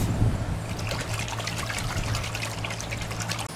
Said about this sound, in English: I use the water to cool it off.